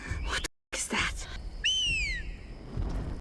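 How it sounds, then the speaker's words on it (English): A clear falling whistle, a Seraphite whistling signal from The Last of Us, sounds once, a sweeping tone that drops in pitch, amid brief thuds and rustles before it. "yeah, the whistling."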